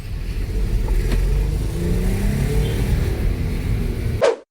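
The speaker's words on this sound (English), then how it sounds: "Misfiring, you can feel the car vibrating very hard." Audi 3.0T supercharged engine idling rough with a misfire and heavy vibration, a loud uneven drone close up that cuts off abruptly at the end.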